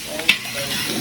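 Meat frying in a pan, a soft continuous sizzle with a faint stir or clink near the start, heard close and low.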